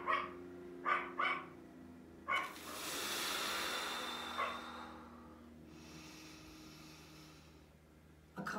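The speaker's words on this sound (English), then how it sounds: "I hope you can all hear Boo barking in the background" A dog barks a few times nearby, short sharp yaps, followed by a long breathy hiss and snorting sounds.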